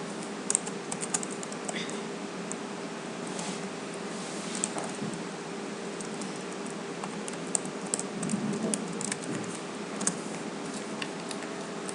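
Steady light clicking of someone typing on a computer keyboard while creating a folder on a PC, faint keystrokes continuing alone for about twelve seconds.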